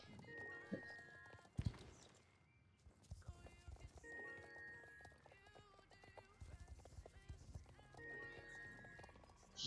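Horse hooves clip-clop at a steady trot in the online riding game Star Stable, a Level 5 horse moving close and clear, with a brief whinny and background game music.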